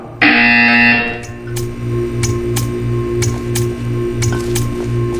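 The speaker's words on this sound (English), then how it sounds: "You will hear a buzzer." A loud electronic buzzer in the video game Portal 2 blares for about a second, then a steady hum continues with a series of sharp, regular clicks.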